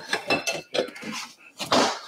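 A nonstick skillet is handled among other pans in a kitchen, giving a few quick, close metallic clinks and clanks in an uneven rhythm.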